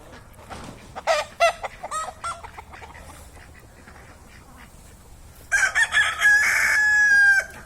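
A rooster crows loudly and close after a cockfight, a drawn-out cock-a-doodle-doo near the end, following earlier scattered clucks and short calls from fowl.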